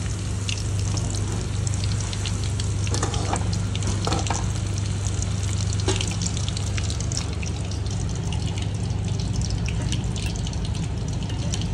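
Chicken 65 fries in hot oil with a dense, continuous sizzle and crackle, punctuated by occasional stirring clinks, close and steady throughout with no voices.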